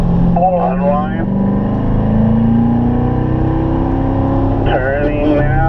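A Corvette on a racing-school track accelerates through a corner, its engine note rising steadily and loudly up through the revs, with an instructor's voice coaching over it at the start and end.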